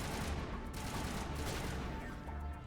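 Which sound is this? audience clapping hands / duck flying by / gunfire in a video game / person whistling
gunfire in a video game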